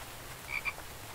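A frog gives two short croaks over low ambient noise in the video game The Infected. The croaks are faint and brief, one shortly after the other.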